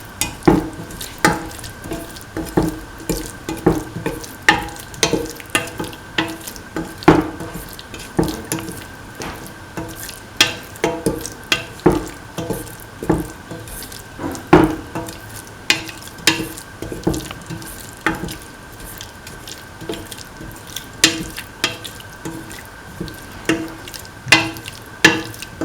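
Coconut milk rice with mint and cottage cheese is stirred and mixed in a pan, giving steady, close scraping and clinking strokes in an uneven rhythm over a faint, continuous background wash.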